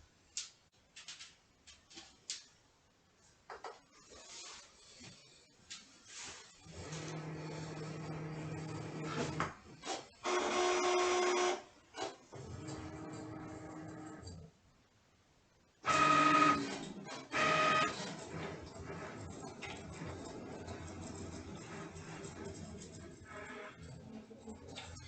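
Cricut machine cutting iron-on vinyl, quiet whirring motor runs in bursts with carriage movements, brief beeps and clicks, stopping and restarting over about twenty-five seconds with no talking.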